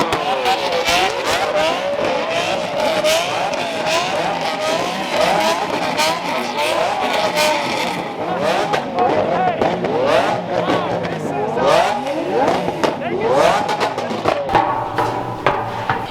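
A Lamborghini 750 and a gated Mercedes roadster rev their engines together, producing loud overlapping howls that rise and fall in pitch. Sharp bursts sound throughout, and people talk over the engines.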